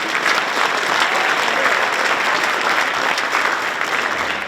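Audience at a middle school band winter concert applauds steadily throughout, a dense, loud wash of clapping from a sizable crowd with no break.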